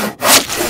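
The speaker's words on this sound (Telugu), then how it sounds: "రంపంతో ముక్కలు ముక్కలుగా కోసి" A hand saw cuts through wood in one short, rasping stroke, loud and close, with no voices.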